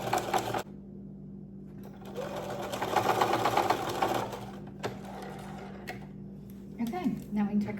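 A sewing machine stitches a dress seam on a Simplicity 3130 pattern, its rapid needle chatter running in bursts that speed up and stop, briefly backing up to lock the stitches, with a voice speaking between runs.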